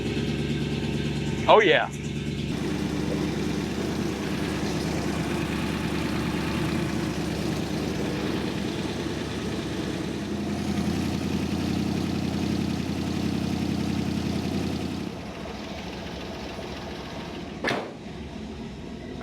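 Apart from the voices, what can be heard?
vehicle engine cranking and idling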